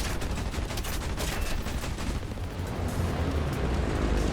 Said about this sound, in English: These cannons shred bombers when they make a connection.